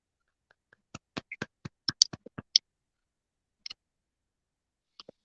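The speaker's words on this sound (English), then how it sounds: "What are you clapping for?" Hand claps ring out as sharp, close, separate cracks, about a dozen in a quick uneven burst, then a few scattered claps after a pause, with silence between.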